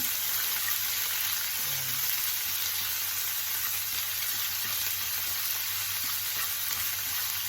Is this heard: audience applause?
no